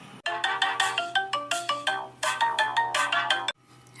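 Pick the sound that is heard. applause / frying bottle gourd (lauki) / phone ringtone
phone ringtone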